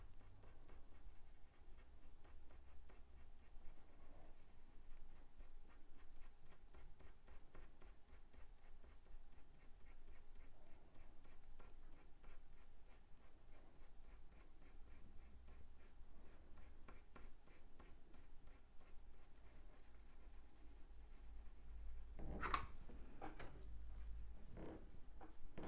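A pencil strokes back and forth on paper in a steady, quiet scratchy rhythm for a long stretch, ending with a few louder knocks, no talk.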